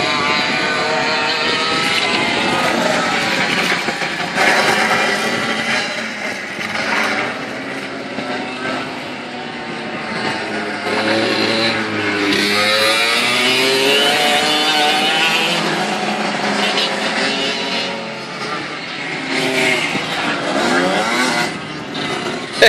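Small go-kart engines whine and rev continuously as karts race around an outdoor track, several motors overlapping with rising and falling pitch, loud and steady throughout.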